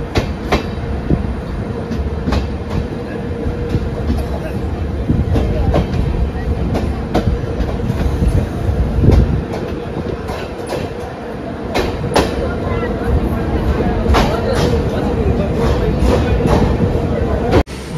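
Bandra-Madgaon train rolling on its inaugural run, a steady loud rumble with repeated clickety-clack wheel beats over rail joints throughout, with voices talking faintly in the carriage.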